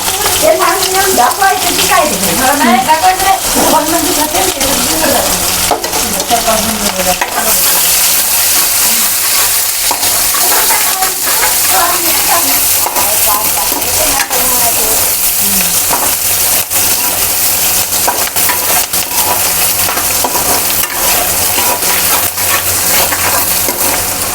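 Chopped onion hits hot oil in a pan, raising a loud, dense sizzle that runs continuously, with stirring scrapes and clinks over it and a voice talking underneath at times.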